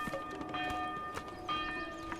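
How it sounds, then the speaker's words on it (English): A large church-style bell rings in the medieval village-building game Manor Lords, giving sustained resonant tones with a few repeated strikes over steady ambient game sound. No one speaks. "I love that bell. That's my new favorite bell."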